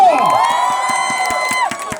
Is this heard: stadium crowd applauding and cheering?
yes